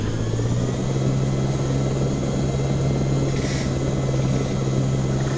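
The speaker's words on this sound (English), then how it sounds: "I promised you guys a ride in the helicopter." A helicopter in the video game Jurassic Park: Operation Genesis drones loudly and continuously, its steady rotor and engine hum filling the whole stretch.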